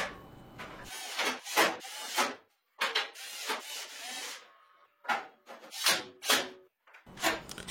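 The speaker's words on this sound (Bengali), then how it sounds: "সিট লাগানোর জন্য এই সিটের পেছন দিয়ে আমি কাঠের এরকম টুকরোগুলো স্ক্রু দিয়ে লাগিয়ে নিচ্ছি" Wooden pieces are screwed onto the back of a seat for a small solar e-rickshaw. Close, scratchy grinding bursts repeat in short runs with brief pauses between them, with no talk.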